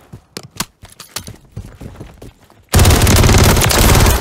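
Sustained heavy automatic gunfire from Call of Duty: Modern Warfare 3 kicks in abruptly and roars loudly to the end, preceded by scattered sharp shots and clatter.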